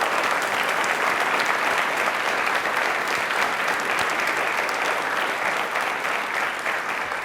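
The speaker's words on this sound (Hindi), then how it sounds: "तालियां एक बार जोश से अपने लिए बजा दीजिए वापस से" A young audience at a televised quiz show claps for themselves, steady dense applause filling the room without pause from start to finish.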